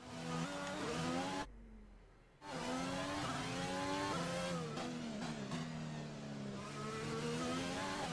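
Formula 1 car engine in the F1 2020 video game, revving up and down through gear changes with a whining pitch that sweeps repeatedly, briefly cut to near silence partway through.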